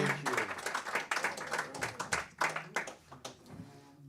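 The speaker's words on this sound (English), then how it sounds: "Let's another round of applause for Mustard's Retreat." An audience at a Friday night folk concert applauds after a song by the act Mustard's Retreat, a dense patter of many hands clapping, fairly close, with some voices mixed in.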